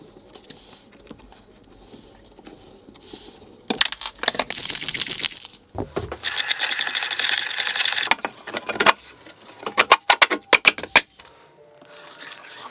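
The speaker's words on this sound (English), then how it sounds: "I used a pipe cutter to cut the copper to 36mm length" A pipe cutter cuts copper pipe, giving bursts of bright metallic scraping and rasping that start and stop in separate strokes, with quieter clicks and handling noises in between.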